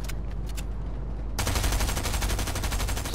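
Rapid video-game gunfire crackles in a dense, continuous burst, sparse and muffled at first and then abruptly louder and steady, with no talking over it.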